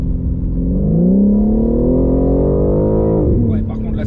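A 2021 BMW M3 Competition G80 with a carbon pack revs its engine loud and close in one continuous climbing, rumbling pull that holds, then drops off sharply near the end.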